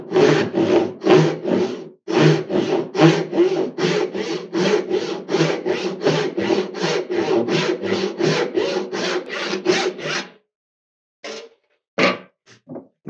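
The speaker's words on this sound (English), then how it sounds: "I'm going to take full strokes, going slowly and keeping that saw plumb" A hand saw cuts through pine in slow, full, regular strokes, about two dozen rhythmic rasps in a steady run, then a pause and a few isolated strokes; close and loud with no talking.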